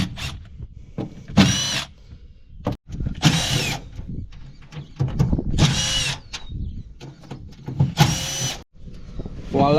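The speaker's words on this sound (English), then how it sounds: "if you take all of these bolts out" Power drill or impact tool spinning bolts out of a tractor planter, sounding in several loud bursts of a few seconds each, separated by quieter gaps with clanking and handling noise, close up.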